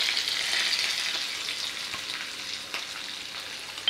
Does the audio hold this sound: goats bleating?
no